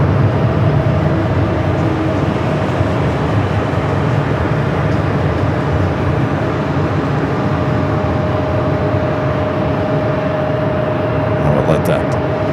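An Embraer passenger jet on approach to Phoenix Sky Harbor airport, a loud, steady broadband roar with a droning tone, continuous throughout and heard from outdoors.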